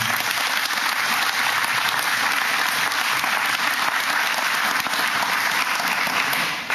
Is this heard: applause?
yes